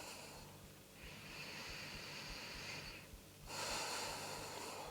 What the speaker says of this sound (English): start to notice your breathing.